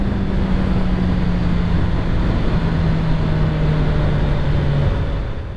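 2022 Suzuki Hayabusa motorcycle pulling away hard from a standstill, a loud, continuous engine roar whose steady tone holds and rises through the run before easing at the end.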